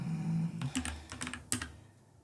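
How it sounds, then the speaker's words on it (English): Close computer keyboard typing, a short burst of quick key taps in an uneven rhythm lasting about a second and a half, preceded by a brief low hum and followed by quiet. "I'm going to type this into ChatGPT"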